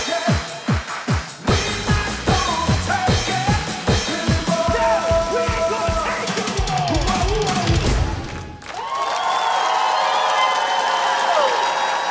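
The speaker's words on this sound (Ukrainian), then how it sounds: "аплодують всі!" A large studio audience bursts into rhythmic clapping at a Ukrainian talent show, then swells into sustained applause and cheering that carries on loudly to the end.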